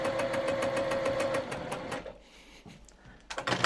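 A sewing machine stitches a quilt block, a rapid rhythmic whirring chatter for about two seconds, then stops, followed by quieter handling sounds and a few clacks.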